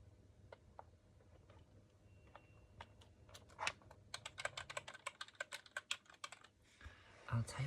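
Soft typing on a computer keyboard in a quiet room, sparse keystrokes at first that build into a quick, close run of clicks, faint and intimate.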